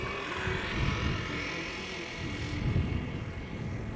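A KLM Embraer 190 jet rumbles and roars from a distance at Schiphol's Polderbaan runway, a steady, broad engine drone with low rumbling swells, moderately faint and unbroken by voices.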